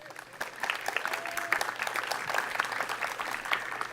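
Audience applause at a women's club student art contest ceremony, a steady patter of many hands clapping from a moderate-sized crowd.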